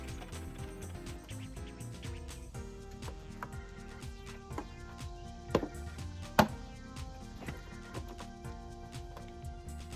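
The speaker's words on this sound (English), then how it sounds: "10mm deep socket and a lot of ratcheting" A ratchet with a 10mm deep socket works loose the valve cover bolts on an LNF engine, giving a quiet, close, continuous clicking of the pawl in rapid, uneven bursts with a few sharper knocks.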